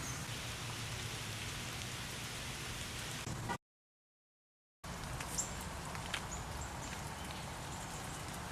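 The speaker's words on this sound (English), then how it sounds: "we are blessed with the rain today" Steady rain falls outdoors onto a fence, plants and a tree, a dense even hiss with scattered close drips and pattering taps, cut by a brief gap of silence partway through.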